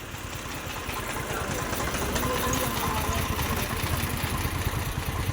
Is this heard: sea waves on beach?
no